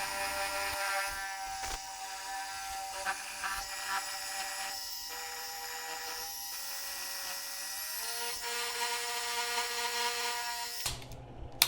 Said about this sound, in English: I'm also going to cut that at the mill